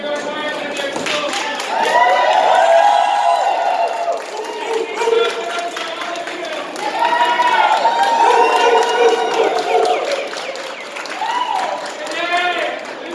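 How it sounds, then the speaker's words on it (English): A crowd at an LGBTQI funding rally and press conference claps and cheers in swelling waves, with loud voices shouting and speaking over the applause. "Give a round of applause to everybody for their good work and their children."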